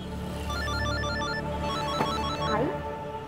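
A phone ringing in repeated electronic melodic tones on an outgoing call to someone in Pune, steady and clear with no voices.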